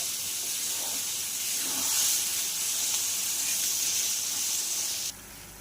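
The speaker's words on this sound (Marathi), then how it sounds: "म्हणजे त्याचं तेल सुटेपर्यंत आपल्याला ही भुर्जी फ्राय करायची आहे" Paneer bhurji fries in oil in a pan, giving a steady, close, loud hiss and sizzle that runs unbroken before cutting off abruptly at the end.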